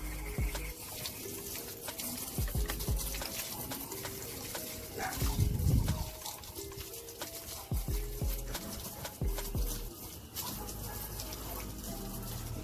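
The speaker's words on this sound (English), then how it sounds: "Take your hose under fairly high pressure. Just give it a good rinse." A garden hose sprays water at fairly high pressure to rinse soap off a fishing reel, giving a steady close hiss and patter of water that runs continuously with small changes in the spray.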